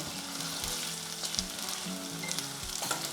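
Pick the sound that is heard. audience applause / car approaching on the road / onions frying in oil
onions frying in oil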